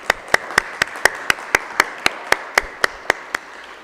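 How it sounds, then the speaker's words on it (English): Crisp, evenly spaced hand claps ring out at a steady beat, about four per second, clear and close, at the final of a public speaking competition. "Let's give a round of applause to Mariana"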